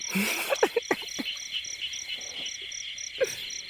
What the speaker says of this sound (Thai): เสียงกบร้องลั่นทุ่งเลยนะครับผม